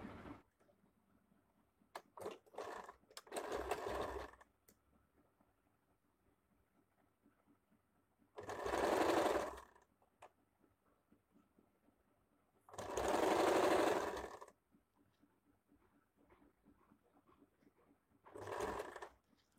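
A sewing machine stitches a square-neck A-line nighty in several bursts of rapid whirring, each lasting one to two seconds, separated by quiet pauses with small handling clicks.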